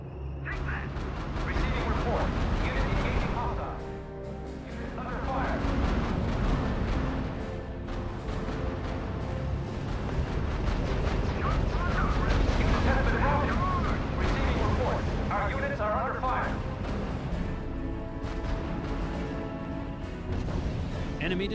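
Gunfire and explosions from the strategy game RUSE, a tank battle against light and medium German tanks, with booming cannon shots and bursts rolling continuously at full loudness while a voice speaks over the combat.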